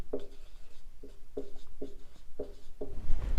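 Pen strokes scratching across paper while a maths solution on functions is written out, a run of short rubbing marks with small gaps between them, close up.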